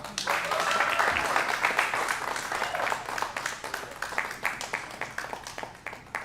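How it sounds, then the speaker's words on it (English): An audience at a jazz club applauds, a full burst of clapping that starts strong, then gradually thins into scattered individual claps as it fades. "This is your moment to applaud with wild abandon."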